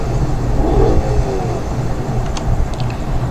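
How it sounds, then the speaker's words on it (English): A louder, meaner V8 in the BeamNG.drive off-road game gives a deep, heavy rumble, revving up early then holding a loud, throaty idle with a few sharp clicks near the end, no voices. "a meaner, louder V8"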